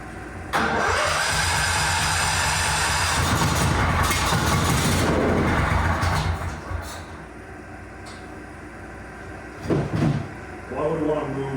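A Hoot six-wheel amphibious buggy's engine cranks and catches, running rough and loud for several seconds before dropping to a lower idle, with clunks and a brief revving burst near the end; someone talks over it.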